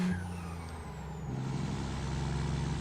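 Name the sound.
truck engine brake in video game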